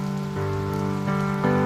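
Steady rain falls in a dark setting under a Christian hymn from the Harpa Cristã, with sustained sung or instrumental tones layered over the soft continuous patter.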